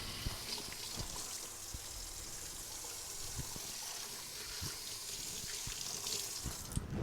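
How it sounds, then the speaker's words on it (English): Water runs from a kitchen tap during hand washing, a faint, steady splashing stream into a sink with small knocks and clinks, lasting about seven seconds with no talking. "Now, I'm going to wash my hands"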